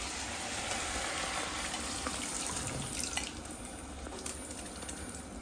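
Dissolved tamarind water being poured into a pan of frying onions and tomatoes, a steady close sizzle and watery splash continuing throughout with no talking.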